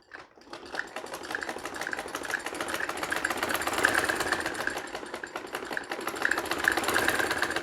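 A sewing machine stitches a seam on ladies' trousers, starting after a brief quiet moment and then running as a fast, steady mechanical chatter with a rhythmic clatter, close and continuous.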